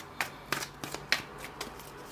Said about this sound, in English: Now I'm going to shuffle this oracle deck right here.